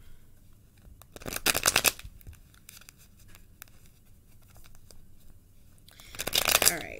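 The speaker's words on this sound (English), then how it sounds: "I'm going to shuffle a few more times." Tarot cards are shuffled by hand for a reading in two crisp, rapid riffling bursts a few seconds apart, close and clear against near silence, with faint handling sounds between.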